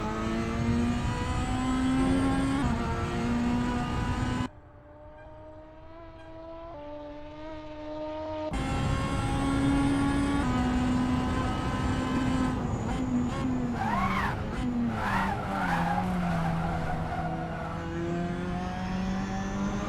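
Super Touring race car in Assetto Corsa, a steady engine drone with shifting pitch and a brief drop-off, then wavering tire squeal as the rear loses grip, loud and close with no talk.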